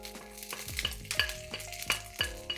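Japanese fried rice with egg, pork and carrots is stir-fried, the spatula scraping and clanking against the pan in a quick, repeated rhythm over a quiet sizzle.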